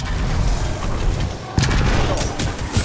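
Automated turret gunfire in Titanfall 2, a dense run of sharp shots thickening after about halfway through, loud and close over a busy game mix.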